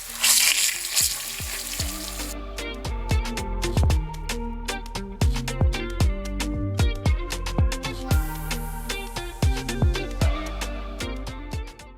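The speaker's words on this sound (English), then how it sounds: "Right now, add the pork." Pork pieces brown in vegetable oil in a pan for a braised pork dish: a loud, continuous frying sizzle broken by frequent sharp clacks and scrapes from a utensil against the pan.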